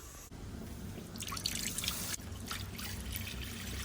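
Water and broth splash and trickle into a pan on a Blackstone griddle, a quiet continuous pouring with dripping bursts, heard alone without talk.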